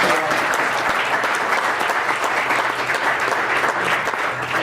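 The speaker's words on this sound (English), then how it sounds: "Let's give him a round of applause." Sustained audience applause at a Winnebago County, Illinois board meeting, a dense steady wash of many hands clapping together at a constant level for the whole span, with no pause or build.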